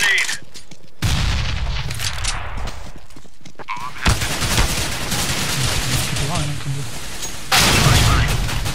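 A grenade throw during a CS:GO match, with loud bursts of in-game gunfire and blasts arriving in three heavy waves, and a voice talking over the action.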